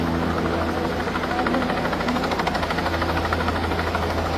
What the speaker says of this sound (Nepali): बाढीमा फसेको, घरमा माथि छतमा फसेको एउटा बच्चालाई चाहिँ हेलिकप्टर आएर उद्धार गर्दैछ।